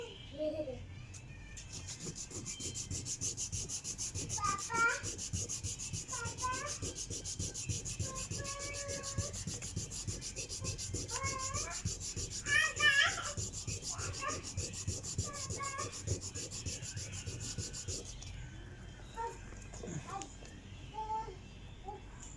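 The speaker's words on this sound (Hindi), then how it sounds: "इसको थोड़ा थोड़ा और रगड़ना पड़ेगा जी, ये अभी भी नहीं बैठ रही पूरी" A broken plastic car AC vent wing is rubbed down to fit, making repeated quiet scraping strokes in a steady rhythm, with faint voices in the background.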